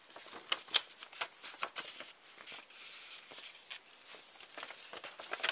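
Paper crinkling and creasing as corners are folded in for an origami rose: a string of crisp, irregular rustles and sharp snaps, close up and moderately quiet, with no voices.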